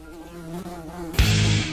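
A fly buzzes in the video game Slap the Fly, a steady droning hum that ends in a sudden loud burst of noise.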